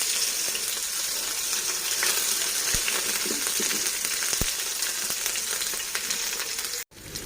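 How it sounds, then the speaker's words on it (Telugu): Onions and green chillies fry in hot oil in a pan, giving a steady close sizzle with faint stirring clicks and a couple of sharp taps, and no voices. "ఆయిల్ హీట్ అయిన తర్వాత మనం ముందుగా ఆనియన్స్, పచ్చిమిర్చి వేసేసుకోవాలి."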